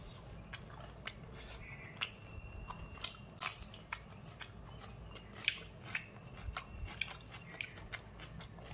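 Someone eats crispy fried chicken pakoda with tomato sauce, raw chilli and onion, with close, crunchy bites and chewing recurring steadily against a quiet background.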